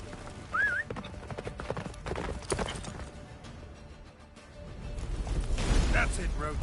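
A horse gallops with rhythmic hoofbeats in the video game The Witcher, mixed with creaking tack, a short whinny and game sounds, while a voice speaks briefly partway through.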